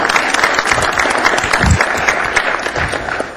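Loud, close audience applause rolls through an assembly meeting, dense and continuous with a few sharper claps standing out, tapering slightly at the close.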